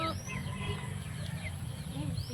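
A chicken clucks and squawks nearby in a home garden, with a few short rising calls at the start and end over a low background hum.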